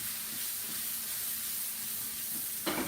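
Shrimp fry in a pan with a steady, even sizzle at moderate distance, ending in a short clatter.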